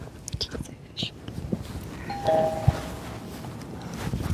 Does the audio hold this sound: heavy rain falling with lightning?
no